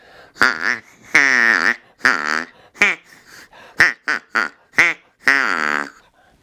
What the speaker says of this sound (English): the Acme siren also had a duck call